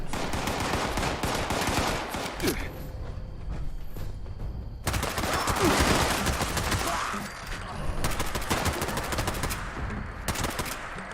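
Automatic gunfire in the video game Fallout 76, loud rapid bursts of shots that stop briefly around the two- and eight-second marks, sustained and close throughout with no talking.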